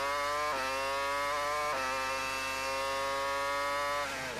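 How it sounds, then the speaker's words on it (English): A 2002 Formula 1 car driven by Räikkönen at the Canadian Grand Prix screams at high revs, with a steady loud harmonic whine and brief pitch dips at gear shifts. "You can hear how hard the engine works around this circuit."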